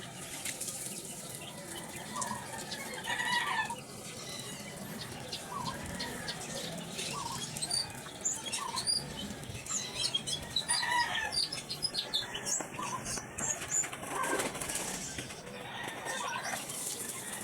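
Sweater crossed with Gray Hatch gamefowl roosters at bath time give scattered clucks and short calls over busy outdoor background noise, with wing flapping and faint movement throughout.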